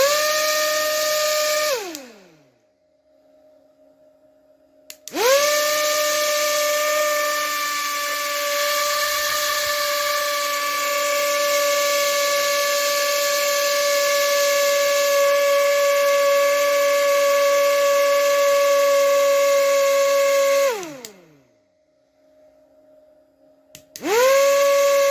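Small supercapacitor-powered fan running with a steady, loud tonal whine that spins up sharply, holds for about fifteen seconds, winds down and starts again, with no voices.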